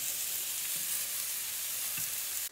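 Pork medallions frying in a pan, a steady dense sizzle that stays loud and even throughout with a couple of faint utensil touches, no voices.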